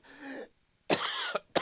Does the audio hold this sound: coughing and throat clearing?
yes